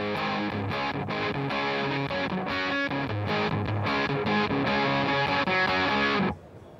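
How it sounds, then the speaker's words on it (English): A heavily distorted electric guitar played through an Akai tri-mode distortion pedal plays a thick, driving riff of chords and notes for about six seconds, then cuts off abruptly. "This is our tri-mode distortion."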